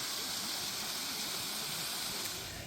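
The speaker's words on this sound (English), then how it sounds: "And here's another waterfall that's much easier" A waterfall at Icy Strait Point near Hoonah, Alaska, roars as a steady, dense broadband rush of falling water, constant and close with no pauses.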